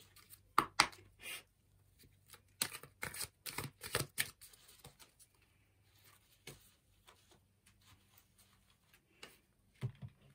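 Oracle cards are shuffled by hand for a reading, giving soft, irregular papery flicks and riffles in quiet bursts, close and faint, with no talk.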